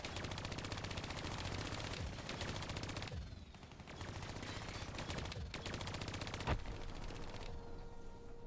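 Sustained automatic gunfire in the shooter game Call of Duty Black Ops 3, dense overlapping bursts with brief lulls and a sharp louder shot near the end, loud and continuous throughout.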